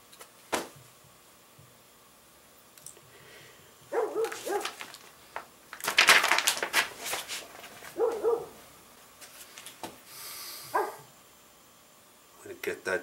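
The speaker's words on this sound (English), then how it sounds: "What are you barking at?" A neighbor's dog barks in short bursts, some loud and close, others fainter, with gaps between, while someone speaks in between the barks.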